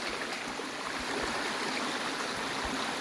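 Floodwater from a breached forest tank in Chikkamagalur rushes through a coffee plantation in a loud, continuous, turbulent roar with gurgling undertones. It is steady and close throughout, with no voices.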